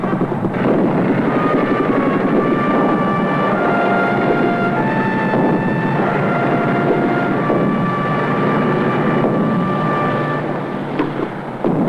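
Military helicopters fly over in a scene from an East German television film about a National People's Army tank regiment, a loud, steady rotor and engine roar that stays close and constant for the whole stretch.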